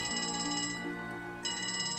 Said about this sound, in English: Hey, we got a phone call.